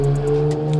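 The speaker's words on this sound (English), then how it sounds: "Some other cars driving by, I think that was an Infiniti Q" Cars drive past on a road, giving a brief, steady engine drone with a low hum. There is no talking.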